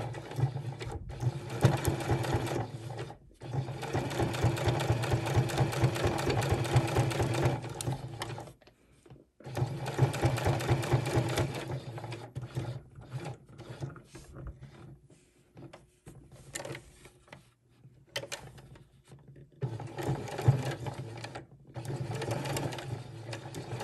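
Sewing machine stitching around the edge of a fabric corner bookmark, a steady rapid mechanical whirring run in several long bursts separated by short pauses, close and loud with no talk over it.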